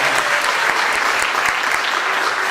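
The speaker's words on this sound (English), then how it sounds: "Give him another round of applause." Audience applause for the director of a school Tuesday jazz band on stage, a dense, steady clapping from a full crowd that stays loud and even for the whole stretch, with no voices over it.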